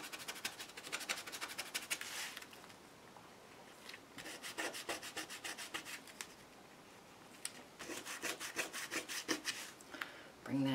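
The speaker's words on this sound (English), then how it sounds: "I'm going to grab a yellow gelato and just go along some of the seams in the fabric." Yellow gelato crayon rubbed along the seams of layered fabric, giving bursts of dry, scratchy rubbing strokes in quick rhythmic passes, close and fairly quiet, with short pauses between runs.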